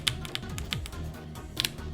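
Computer keyboard keys click in quick, irregular taps while a video game is played, a handful of crisp presses over soft background sound.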